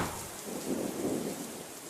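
Thunderstorm with rain outside the WSBT 22 studios in Mishawaka, a low rolling rumble of thunder swelling and fading beneath a faint, steady rain hiss.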